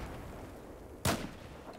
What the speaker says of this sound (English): Someone shot that guy.